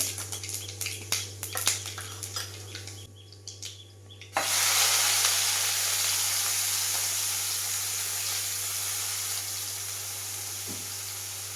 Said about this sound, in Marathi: तेल गरम झालेलं होतं त्यामुळे तेल लगेच मोहरी तडतडली आहे